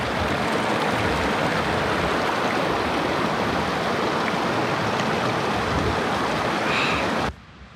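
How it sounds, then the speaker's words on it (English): Fresh mountain stream water in Armenia rushes steadily with a dense, close, continuous roar that cuts off abruptly near the end. "Fresh mountain water from Armenia."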